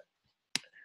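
A single sharp scratchy click as a stylus cuts into a blank disc on the E Z Record Maker, preceded by near silence and followed by a faint hiss.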